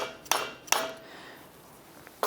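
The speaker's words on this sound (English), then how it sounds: "just gently tap down with a nylon hammer, if you've got one, or a block of timber" A nylon hammer gently taps bushes into an interference fit on a pedal car drivetrain build. Three light, sharp taps sound close in a quiet room, two near together and one after a pause.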